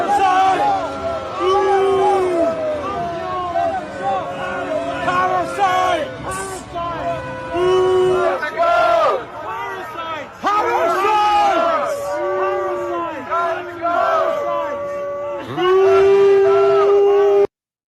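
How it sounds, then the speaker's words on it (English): A large outdoor crowd jeers and boos at Prince William and Kate, sustained sweeping waves of voices rising and falling, loud and dense, with shouts and whistles mixed in. "let's watch William and Kate be booed"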